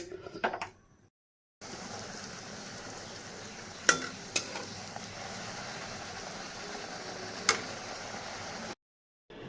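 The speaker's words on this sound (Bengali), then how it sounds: "তো লুচিগুলা ভেজে নিই" Luchi, a puffed fried bread like puri, deep-frying in hot oil gives a steady, quiet sizzle with a few sharp clicks and short breaks of silence.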